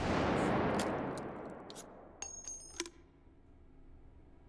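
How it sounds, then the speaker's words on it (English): An H69 grenade launcher in the H3VR video game fires with a heavy blast that fades out over a couple of seconds, followed by a few crisp metallic clicks and clacks of the weapon's mechanism. "I'm just gonna finally finish this video with a little bit of grenades, or grenade launchers."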